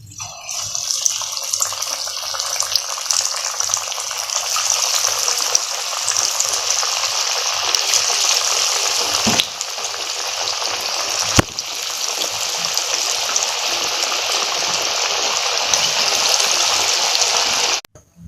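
Steady, loud hiss of lentil fritters (parippu vada) deep-frying in hot oil, a dense broadband crackle that runs continuously with no voices, ending abruptly.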